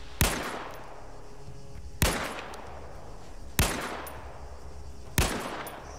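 Four sharp, loud gunshots from the player's weapon in a PMC shooter game, spaced about a second and a half apart, each with a long echoing decay over a faint background.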